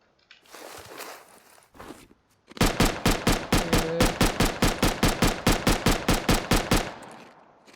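Rust video game gunfire: after a few scattered quieter noises and taps, a Thompson and an automated turret burst into a long, loud, evenly spaced string of rapid shots that continues to the end.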